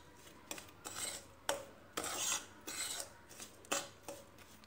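A spoon scrapes and stirs ingredients with cornflour in a bowl, mixing a quick bread and milk powder dish, in repeated rhythmic strokes of grating scrapes and light clinks, close and moderately quiet, with no talking.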